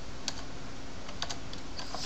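Typing on a computer keyboard: a soft, steady run of key taps over a constant background hiss, fairly close, with no talk.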